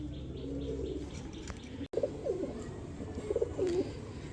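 A pair of black Goira pigeons coo softly in a few low, rolling phrases, close but faint, over a steady background hum.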